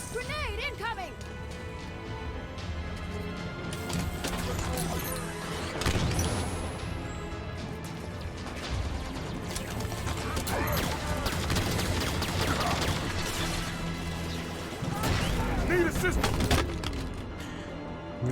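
Halo 5 combat with a dense, continuous clatter of gunfire, bursts of explosions and crashing impacts from grenades, loud throughout, mixed with game sound and a talking voice.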